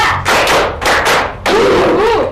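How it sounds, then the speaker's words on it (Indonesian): A classroom of students claps together in rhythmic spirit-clap bursts, short loud volleys of group clapping separated by brief pauses, with a voice chanting over the last burst. "Tepuk semangat 1. Tepuk semangat 2."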